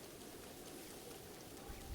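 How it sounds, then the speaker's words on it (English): Steady rain hisses in a Zelda video game across Zora's Domain and the Lanayru Wetlands, a dense, even wash of patter that continues unbroken for the whole moment with no voices over it. "Considering it's raining."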